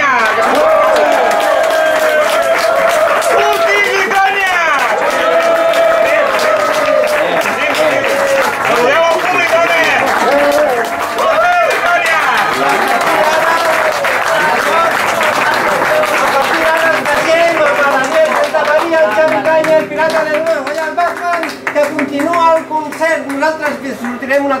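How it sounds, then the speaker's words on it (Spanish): Audience at a live comedy music show in Barcelona claps and cheers loudly and continuously for the whole stretch, while voices and what sounds like music cut through the noise. "¡Aplaudiment!"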